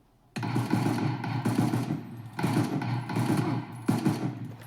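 Bursts of rapid automatic gunfire in a video game, several sustained volleys with brief pauses between them, fairly close and loud.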